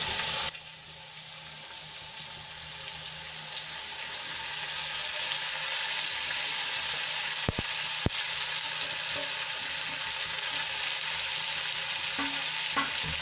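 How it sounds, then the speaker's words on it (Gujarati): Radish greens and chopped onion sauté in oil with garlic, a steady broadband sizzle running throughout with a couple of sharp utensil clicks near the middle, no talking. "અને સરસ રીતે તેલમાં મિક્સ કરી લઈશું"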